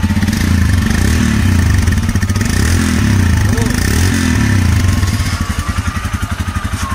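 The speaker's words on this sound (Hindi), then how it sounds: "और भैया आवाज एग्जॉस्ट की, एग्जॉस्ट दिखा देता हूँ" A Royal Enfield Himalayan motorcycle engine runs close by, its exhaust a loud, steady, throbbing thump with slight rises in revs and a lower idle near the end. A person talks over it.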